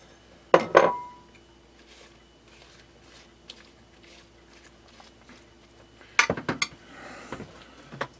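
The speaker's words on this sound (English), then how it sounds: "Mix in all the tortilla strips." Tortilla strips being mixed into canned enchilada sauce in a dish, two brief clusters of spoon-on-dish clinks and scraping, one early and one near the end, separated by a quiet stretch.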